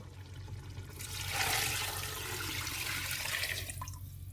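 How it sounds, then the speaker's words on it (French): Water poured steadily into a tagine pot over veal pieces, a continuous soft splashing rush that swells midway and tapers near the end, heard alone without talk. "on va mettre de l'eau jusqu'à couvrir la viande"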